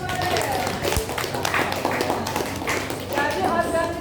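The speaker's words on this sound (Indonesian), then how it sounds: "Iya, tepuk tangan untuk Pare." Students clap together in a classroom, a dense patter of hands running through the whole stretch with voices mixed in.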